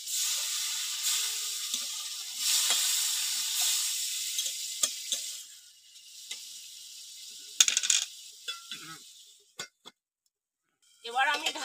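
Bamboo shoots with water cook in a covered pan for a Bengali recipe, a soft continuous sizzle and hiss close by that fades out, broken by lid clatters and light metal clinks.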